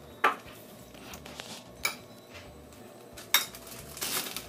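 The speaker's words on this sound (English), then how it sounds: "now what we're gonna do is add them to this. And I'll mix while she's adding them" Crushed peanuts being stirred into a bowl, with a few distinct clinks of a utensil against the dish standing out over soft, steady mixing noise; no talking.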